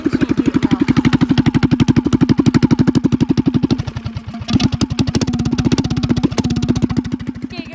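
A yard kart engine runs with a straight pipe exhaust, loud rapid popping firing pulses up close that briefly sag and falter midway, then pick back up to a steady chug.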